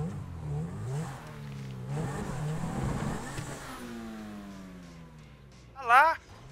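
Car engines rev and accelerate in the racing game GTA Online, rising and falling revs with layered engine tones throughout, a sharp higher-pitched whine near the end, and people talking over parts of it.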